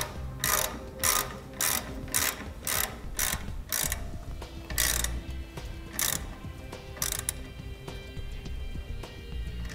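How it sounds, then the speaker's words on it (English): A 1/2 inch socket ratchet wrench tightens four bolts on a trailer brake master cylinder installation, clicking in quick bursts of rapid ratchet ticks separated by short pauses, close and clear with no speech. "we're going to come back with that 1/2 inch socket and wrench and tighten up those four bolts"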